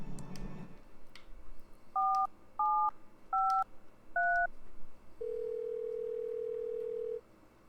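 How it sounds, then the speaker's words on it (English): A cell phone in the Thimbleweed Park video game dials a number with four distinct DTMF keypad tones, evenly spaced, then a steady ringing tone holds for about two seconds. "what I'm going to have to do is use my cell phone to call that number"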